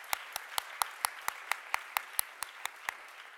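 At an alumni awards ceremony, a single pair of hands claps steadily about fourteen times in an even rhythm, crisp and fairly close against a quiet room.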